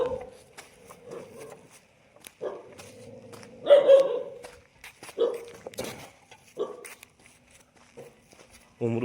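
Dogs in a village bark at arriving visitors, with several sharp, nearby barks and yips scattered irregularly and a louder burst midway, while people talk quietly in between.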